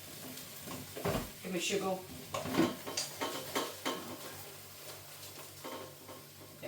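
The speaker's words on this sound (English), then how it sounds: "just giving them a little turn around in the pan" Homemade chips turned over in a frying pan: soft scraping, stirring and a light sizzle come in uneven bursts, close by, while a person talks over the cooking.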